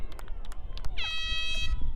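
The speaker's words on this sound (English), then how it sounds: "And the air horn gets blown" An air horn blares at a women's lacrosse game, a sustained loud blast starting midway, over crowd noise and a voice talking.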